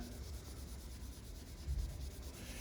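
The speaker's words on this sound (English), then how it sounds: "this is 1500 grit wet sandpaper" Wet sanding a Cobra car hood by hand with 1500 grit wet sandpaper, a steady soft rubbing and swishing that continues throughout with small strokes, close and fairly quiet, no voices.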